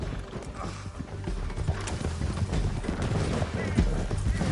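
Horse hooves clatter in a fast galloping rhythm in a video game ride down a canyon, with mechanical rattling and gear-like clicks mixed in, steady and moderately loud.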